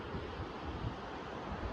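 North Sea waves wash onto the coast at the Westhoek nature reserve in Belgium, a broad steady roar of surf mixed with buffeting wind noise on the microphone, continuous and fairly loud with no voices.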